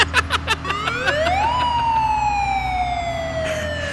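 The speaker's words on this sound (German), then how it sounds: "ich glaube, du kannst die Sirene anmachen" A police siren in a Lego-styled video game switches on: a few quick blips first, then a loud, close electronic wail sweeps up and slowly glides down, with no voices over it.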